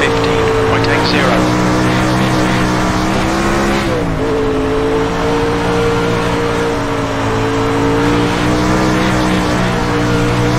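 Loud, steady engine drone of 360 sprint cars racing on the Eldora dirt track, a continuous high-revving roar with a brief dip in pitch partway through, and a radio voice talking over it.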